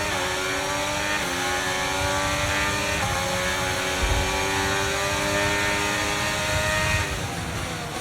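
An F1 car in a racing video game, its loud high-pitched engine whining continuously as it brakes hard into sharp corners and then revs back up, the engine note sliding down and climbing again.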